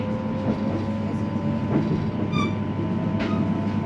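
A London Overground Suffragette line passenger train to Gospel Oak rumbling along with steady low drone, wheel clatter and a brief high squeal, heard from inside the carriage.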